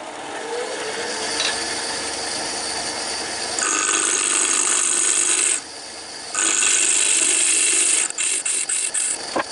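Small power tool rounding and tapering a quarter-inch square of canary wood, giving a steady close whirring grind with a few louder high-pitched bursts and short stop-start pulses at the end.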